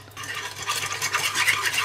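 Fried egg noodles with lard and frying oil stirred and tossed in a pan, giving a steady scraping, rustling clatter with faint sizzle that stays close and fairly even for about two seconds.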